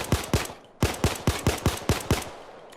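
A Glock 17 (Chimano 88) pistol fires in Payday 2, about eleven sharp, punchy shots in quick bursts with a brief pause after the first three, loud and close with no talking.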